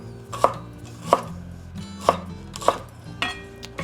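Knife chopping green onion on a cutting board, four or five sharp, evenly spaced thuds close to the mic in a kitchen while preparing Cantonese fried rice, with no voices over it.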